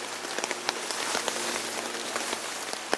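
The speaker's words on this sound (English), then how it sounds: "it's heavy rain out there this morning" Heavy rain pours down on tarps at a wild camping spot in UK woodland, making a steady, dense hiss scattered with sharper drips and patters, with no voices.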